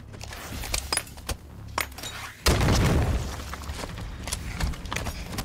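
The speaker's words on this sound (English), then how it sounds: "I'm gonna send a grenade up there." A grenade explodes in Halo 5 with a sudden heavy boom midway, its roar decaying into rubble and crackle, preceded by sharp metallic clicks and thuds from the game.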